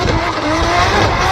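An R42 Skyline drift car flicks into a corner at a Bishopscourt drift event, its tires squealing loudly and continuously along with the engine's roar.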